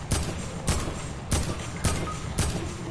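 Five sharp video game gunshots fire at a steady, evenly spaced rhythm, each a crisp loud crack with a brief tail, nothing else around them.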